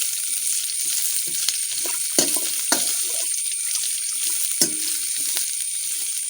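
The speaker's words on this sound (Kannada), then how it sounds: "ಈಗ ನಮಗೆ ಆನಿಯನ್ನಲ್ಲಿ ಚೆನ್ನಾಗಿ ಎಣ್ಣೆಯಲ್ಲಿ ಬಾಡಿಸಿಕೊಳ್ಳಬೇಕು." Chopped onions fry in hot oil for onion rice, a steady close sizzle with a few sharp stirring clatters from the pan and no talking.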